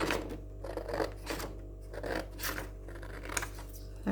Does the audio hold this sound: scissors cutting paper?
yes